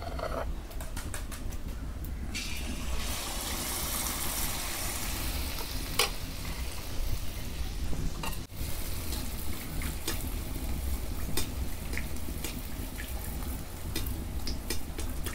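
Jaggery pitha fries in hot oil in a new wok with a steady, close sizzle and bubbling crackle that goes on without a break, with occasional sharper pops on top.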